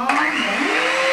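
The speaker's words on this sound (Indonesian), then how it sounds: "Mixer!" An electric mixer whips dalgona coffee with a continuous high whirring drone that shifts slightly in pitch, loud and close throughout the short burst.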